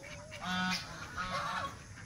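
Several loud nasal honks and calls from poultry close by, repeated irregularly with no talking.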